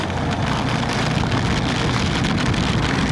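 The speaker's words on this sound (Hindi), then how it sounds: "जोर से हो गई बारिश।" Steady, dense rain pounding a surface, loud and continuous with a broad hiss and low rumble throughout, no voices.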